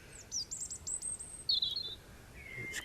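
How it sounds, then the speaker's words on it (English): A blackbird sings fluting, whistled phrases at a moderate distance from high in a tree during a chilly dawn chorus, with brief pauses between bursts and other faint birdsong in the background. "Blackbirds are joining in now."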